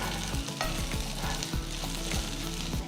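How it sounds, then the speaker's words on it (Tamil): Garlic and small peeled shallots sizzle and fry steadily in a pan over medium flame while being stirred for a Tamil kulambu, with rhythmic scraping strokes over the constant crackle, close and loud, no talking. "ஸோ ஒரு 5 மினிட்ஸ் மீடியம் ஃப்ளேமில் நல்லா வதக்கிடுங்க"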